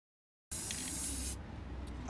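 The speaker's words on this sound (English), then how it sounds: "when you spray paint, make sure you do it a bit from a distance" A steady, close hiss of an aerosol can spraying metallic gold paint onto a chest of drawers after half a second of silence, continuous for over a second before easing slightly.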